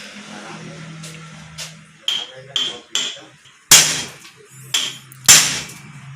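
Sharp metallic strikes of an impact screwdriver tightening the bolts on a Bosch rotary diesel injection pump after overhaul, about five hard blows in an uneven rhythm, close and loud, with a low hum and faint talk early on.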